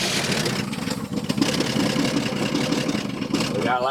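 An old car engine runs rough with loud lifters ticking, a close and steady mechanical clatter over the idle.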